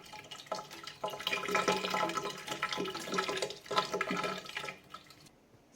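Water from a burst pipe upstairs runs and splashes steadily indoors, a close, continuous rushing flow with brief surges that eases off toward the end; a voice speaks briefly over it.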